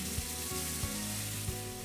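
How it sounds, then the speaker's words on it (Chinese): Chicken pieces with ginger and garlic sizzle steadily in a wok, a close, even frying hiss with a few soft scrapes of stirring, no voices. "再加姜蒜和鸡肉下锅炒到呈金黄色"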